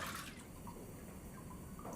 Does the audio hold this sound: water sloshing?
yes